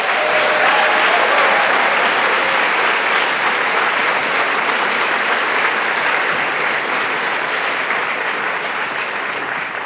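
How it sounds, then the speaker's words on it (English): Sustained audience applause, dense and even, with many hands clapping steadily for about ten seconds. "A massive round of applause for all 7 of them."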